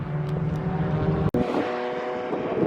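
A 2.4-litre Mitsubishi Mirage race car roars past on a raceway circuit, its engine note loud and sustained with a brief sharp dropout midway before the steady drone resumes.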